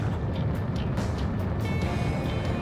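Engines of a transport aircraft in Ace Combat 7 hum in a steady, loud, continuous low drone with a faint higher whine, running without pause and with no voices over it.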